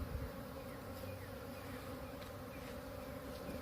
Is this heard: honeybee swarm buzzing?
yes